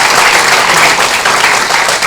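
Loud, close applause from an audience at a moot court event at a government law college in Dewas, a dense uninterrupted burst of clapping lasting a couple of seconds.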